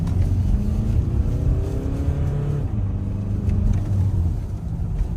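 A Volkswagen Tiguan engine is revved at full throttle, producing a close, rumbling roar whose pitch climbs and falls in repeated sweeps over a steady low drone.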